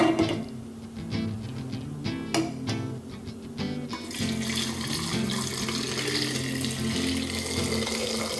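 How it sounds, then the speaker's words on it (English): Hot boiled pickling solution is poured into a jar of pickled eggs, a steady rushing liquid stream that follows some clinks and handling noises, close and continuous. "we're going to add it to the jar and set them over to cool with the others"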